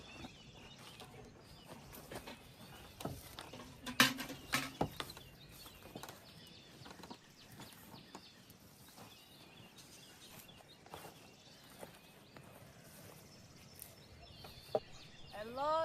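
Chickens cluck and call intermittently outdoors in a farmyard at a Siberian village, with soft scattered clucks and a few louder calls over a busy background of rustling and activity.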